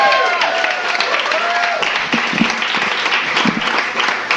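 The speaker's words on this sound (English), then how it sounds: "we should just give a big round of applause" A crowd breaks into applause at a book talk, dense clapping that continues steadily and then thins out, with a few whoops at the start.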